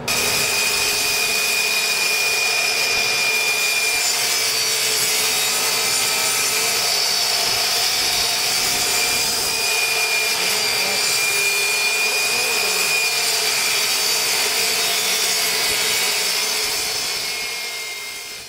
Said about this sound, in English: After you finish cutting your sink hole and securing all the plywood to your cabinets, your next step is to cut your backer board.